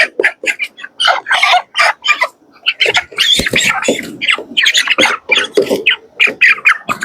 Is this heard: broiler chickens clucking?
yes